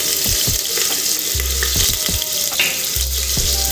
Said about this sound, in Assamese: প্ৰথমতে পিঁয়াজখিনি দি দিম। পিঁয়াজখিনি দি দিছোঁ।